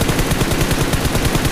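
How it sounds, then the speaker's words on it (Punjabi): Rapid automatic gunfire in a multiplayer shooter game, dense bursts of loud shots with a steady rattling rhythm close by, with no voices over it. "ਦੂਜੇ ਪਾਸੇ ਵੀ ਫਾਇਰਿੰਗ ਹੋ ਰਹੀ ਹੈ"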